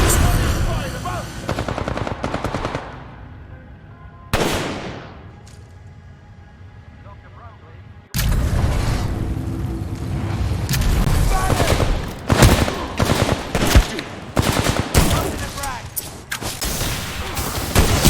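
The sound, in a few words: gunfire in the video game Titanfall 2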